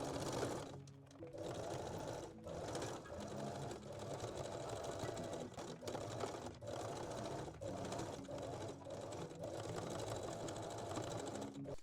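A sewing machine runs a zigzag stitch along a bikini side seam, whirring in long continuous bursts with a few brief pauses, close and steady.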